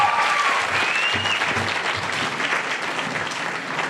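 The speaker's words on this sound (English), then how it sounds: "I think we all can give him a huge round of applause regarding that." Audience applause at an awards event, a dense sustained wash of many hands clapping together, loud and continuous, slowly tapering, with faint voices beneath.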